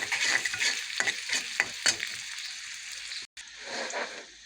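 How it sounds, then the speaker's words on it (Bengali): Onion and garlic frying in hot oil for a dal tempering, a steady close sizzle with bursts of stirring, a brief drop near the end, then the crackle returns. "এই চুলে আমি ডালটা বাগারের জন্য পেঁয়াজ রসুন দিয়ে দিছি"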